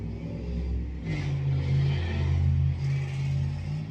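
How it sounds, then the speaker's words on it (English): A car engine rumbles past nearby, its low drone swelling and fading over a few seconds with a slight revving rise. "Loud car."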